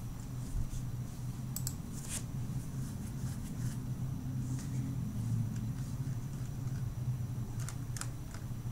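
Someone types on a computer keyboard: faint, scattered keystroke clicks in small irregular clusters over a steady low background hum.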